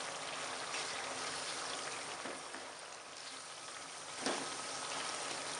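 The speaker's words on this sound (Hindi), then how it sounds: "इसे भून लेंगे मसाले को।" Spices, coriander and turmeric among them, fry in a pan for aloo matar, giving a soft, continuous sizzle that stays faint and even throughout.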